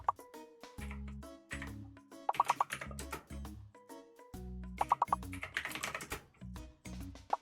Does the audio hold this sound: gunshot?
no